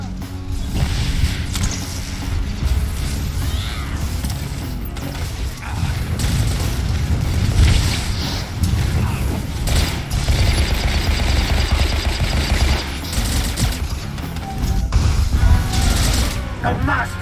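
In a video game, an activated turret fires amid a dense, loud wash of mechanical clatter and booming blasts that runs continuously, with a voice talking over the noise.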